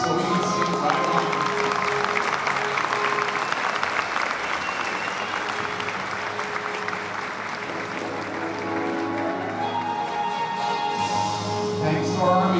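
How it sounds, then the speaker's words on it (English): A large crowd at a school remembrance ceremony applauds Army veterans with dense, sustained applause that stays steady for its whole length, with some crowd noise mixed in. "so we can give you a round of applause for your service"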